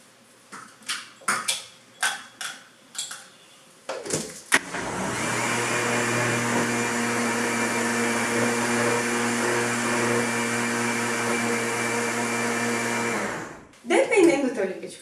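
A kitchen blender whirs loudly and steadily while mixing cake batter with oil and cocoa powder, running about nine seconds before cutting off, with a voice speaking briefly before and after.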